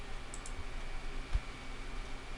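A computer mouse gives a single faint click while a point-of-sale register program is operated, one short tick over a steady low room hum with no talking.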